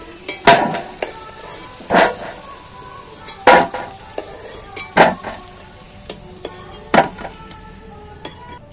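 Fried potatoes are lifted from a pan of hot sizzling oil, with a metal utensil clanking sharply against the pan several times at irregular intervals over a steady frying hiss.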